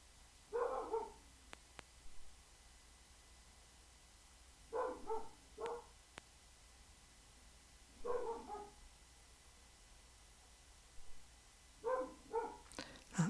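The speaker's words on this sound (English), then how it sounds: "Excuse the dog barking in the background." A dog barks indoors in the background in short bursts of two or three yips and barks, repeated four times with pauses between, moderately distant and alone without talk.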